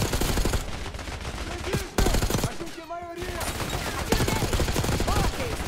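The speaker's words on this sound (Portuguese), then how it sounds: "Tô atirando, mãe." Gunfire in the Call of Duty Black Ops 6 campaign: rapid, loud automatic bursts and fusillades fill the whole stretch, with a brief lull midway, while a player talks over the shooting.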